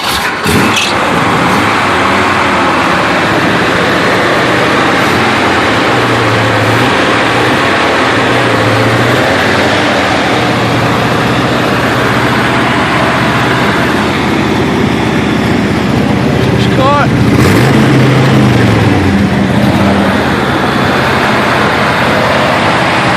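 A 1968 GMC 1/2 ton two-wheel-drive truck with a four-speed runs through a cold start, its engine then idling in a steady low rumble with a few rises in revs, loud and close.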